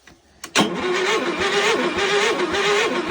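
A Kohler-engined Wheel Horse tractor cranks on a 12-degree cold start, a short click and then a steady, loud churning drone that holds for about three seconds without catching.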